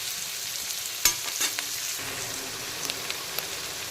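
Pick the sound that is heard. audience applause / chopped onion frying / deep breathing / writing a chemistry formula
chopped onion frying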